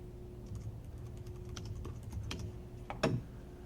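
Typing on a computer keyboard, with soft, scattered close key taps and one slightly louder clack near the end, over a quiet room hum.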